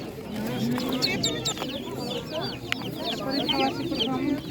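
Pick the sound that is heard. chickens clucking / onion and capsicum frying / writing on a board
chickens clucking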